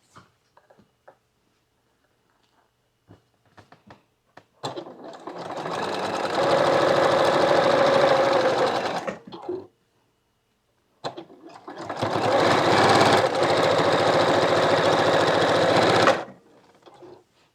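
A sewing machine stitches together African Queen quilt block pieces in two long, steady runs of rapid needle hammering, each preceded by faint clicks and handling, close and loud with no talk.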